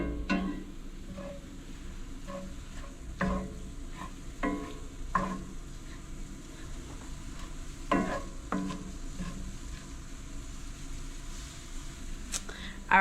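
Onions dropped into a hot pan while making chili cheese dogs in an RV kitchen, giving a low steady sizzle broken by scattered stirring clatters, with faint voices now and then.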